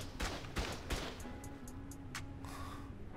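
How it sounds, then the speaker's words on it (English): Automated turrets firing in the survival game ARK, a few sharp bursts of close gunfire at the start, then a quieter stretch with scattered cracks and a steady hum of game ambience. "It's hard to get an angle for those turrets,"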